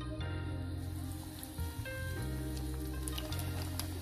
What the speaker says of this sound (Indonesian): kita goreng ya